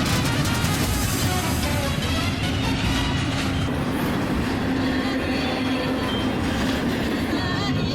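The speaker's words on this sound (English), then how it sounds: "Train's going in the background." A double-decker train rumbles past at a steady roar beside a dirt mound, its wheels clattering with faint squeals, heard continuously throughout.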